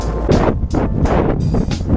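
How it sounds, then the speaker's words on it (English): Heavy wind buffets the microphone in loud, rumbling gusts that rise and fall every half second or so, drowning out everything else. "it's windy. So windy. Audio's gonna be terrible."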